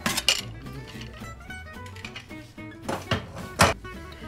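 A pressure cooker is opened after cooking beef for a Kerala-style beef fry, with scattered metallic clinks and knocks of the lid and pot, the loudest near the end.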